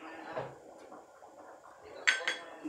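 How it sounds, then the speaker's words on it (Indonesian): Cendol being stirred in boiling coconut milk in a pot, the spoon scraping and clinking against the metal in a steady run, with two sharper clanks near the end; a voice speaks briefly over it. "kita aduk sebentar"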